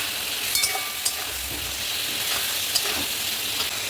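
Spice paste with a little water, green chilli and tomato frying in a pan for a fish curry, a steady bright sizzle with faint clinks of stirring, no talking.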